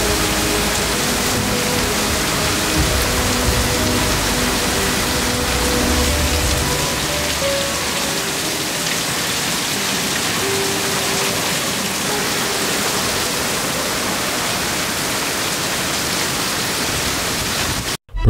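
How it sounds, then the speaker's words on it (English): Heavy thunderstorm rain pours down in a steady, dense roar of drops hitting surfaces, loud and unbroken for the whole stretch, with no voices, before it cuts off abruptly at the end. "But they all had one thing in common: heavy rain"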